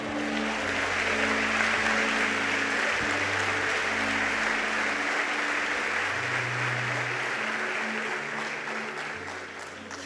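A church congregation gives sustained, steady applause that fills the room, with low musical tones underneath, fading slightly toward the end.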